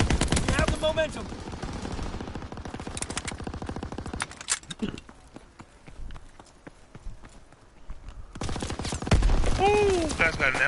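Light machine gun fire in a WWII shooter game, sustained bursts of rapid gunshots up front, broken by a quieter stretch with scattered shots, then loud fire returns near the end.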